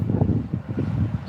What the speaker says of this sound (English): so it's less windy because the wind's actually blowing this way